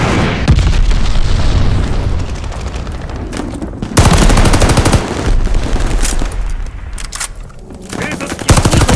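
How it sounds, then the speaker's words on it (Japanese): Glide bombs from an allied airstrike explode in the Call of Duty Vanguard team deathmatch, with loud, heavy booms and rattling gunfire bursts layered over a continuous battle din, with sharp blasts standing out near the middle and end. "味方が滑空爆弾を投下する。"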